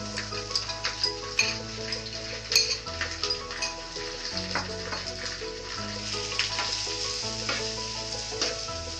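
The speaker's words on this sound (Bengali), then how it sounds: "এটাকে ভালো করে ভাজতে হবে।" Soaked masoor lentils fry in a hot pan for a masoor dal chochchori, giving a steady close sizzle with occasional scrapes and stirring clinks of a utensil against the pan.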